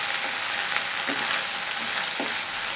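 Ginger garlic paste fries in a pan for a shrimp malai curry, a soft, steady sizzle with occasional faint stirring scrapes and no talking.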